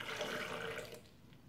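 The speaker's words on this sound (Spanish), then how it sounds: "Vamos a agregar agua, la necesaria nada más." Water pours from a tap over figs and plums for sugar-free jam, a close rushing stream that fades out about two-thirds of the way through, with no voices.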